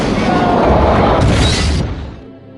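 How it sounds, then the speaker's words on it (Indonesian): A loud explosion sound effect from an action film as a whole place is blown up, a dense roaring blast that rumbles for nearly two seconds and then fades away. "Mereka pun segera bergegas pergi dari sana sambil meledakkan seluruh tempat itu."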